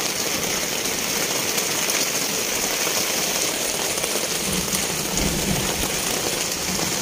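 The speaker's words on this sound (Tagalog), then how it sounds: "Nabutan na po kami ng ulan dito sa Laot." Rain falling on a squid fishing boat at sea, a dense, constant hiss of drops drumming on surfaces with a faint low engine hum beneath, steady and loud throughout.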